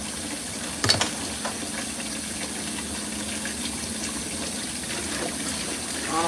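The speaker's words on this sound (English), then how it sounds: "I'm putting hot water in this pan because we don't want that sauce to stick in this pan" Hot water runs from a tap into a cooking pan to keep sauce from sticking. It makes a steady close gushing stream with a sharp clatter near the start, and no talking.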